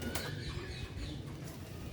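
Bateray pigeons, a long-flying breed kept in Sialkot, coo softly and faintly in a brief low burble, with a light flutter and no voices.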